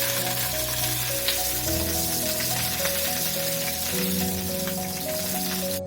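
Green chillies fry in hot oil in a pan, giving a steady, close hiss throughout with soft crackles beneath a continuous tonal background of music.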